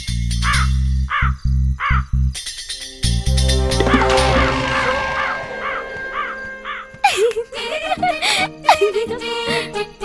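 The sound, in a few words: crow cawing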